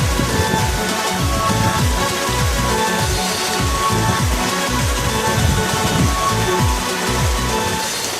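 Water splashes and churns in a swimming pool, a steady, dense wash of droplets and sloshing with a recurring low surge, close and continuous throughout with no voices.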